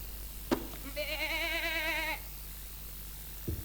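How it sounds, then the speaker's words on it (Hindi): A goat bleats outside a window in one long wavering cry lasting about a second, with a couple of sharp knocks before and after it. "बकरा? ये अजनबी मेहमान मेरी खिड़की के बाहर क्या कर रहा है?"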